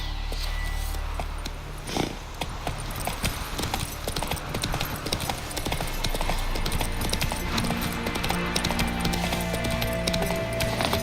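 A horse in the video game Witcher 3 gallops, its hoofbeats clopping quickly and steadily over a dense, busy game soundscape, moderately loud and with no talk.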